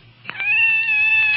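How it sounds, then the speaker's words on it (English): A cat gives one drawn-out, loud, close meow that rises and then holds steady for about a second, alone and with no talk over it. "It's a cat."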